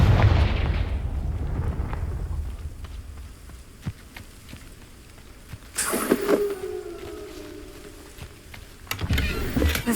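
A Confringo blasting spell goes off in Hogwarts Legacy, a loud fiery burst around the six-second mark, with another blast rumbling in at the end and a heavy boom at the opening.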